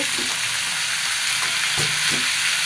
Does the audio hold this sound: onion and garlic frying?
yes